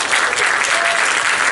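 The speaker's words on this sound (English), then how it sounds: "So a round of applause for Pangburn for doing this." Audience at a Vancouver Q&A event bursts into loud, sustained applause, a dense wash of clapping from a large crowd with no speech over it.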